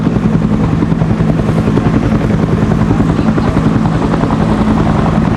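An AH-1W Cobra attack helicopter passes at an air show, its steady, loud rotor thump and turbine drone filling the whole stretch without a break.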